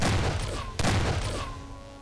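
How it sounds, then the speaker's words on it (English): Gunfire from the video game GunGirl 2, processed with added barrel recoil and reload effects: two loud, dense blasts about three-quarters of a second apart, each trailing into a mechanical rattle and a sustained ring. "when you shoot, you hear the barrel recoil or reload"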